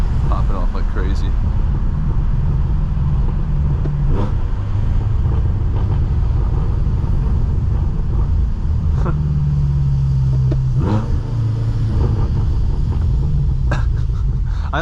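A BMW M6 engine revs on a drive, its exhaust popping and crackling in short bursts over a steady loud road rumble, with people talking inside the car.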